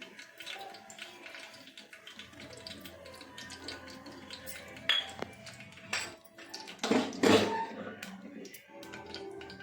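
A pan is set down on a stove and oil is poured in for a green chilli mutton curry, giving metallic clinks and knocks with a louder clatter and clanks toward the end.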